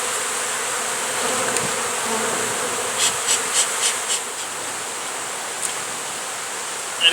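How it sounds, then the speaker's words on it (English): A swarm of honey bees buzzes steadily around a truck tire outdoors, a continuous close insect drone with a few brief louder passes, heard alone without talk. "And these are killer bees, can you tell?"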